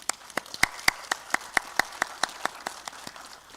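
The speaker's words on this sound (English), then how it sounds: "I just personally want to give a great applause for them." A single pair of hands claps in a steady, even rhythm, about fifteen crisp, close claps in under four seconds over a quiet hall background.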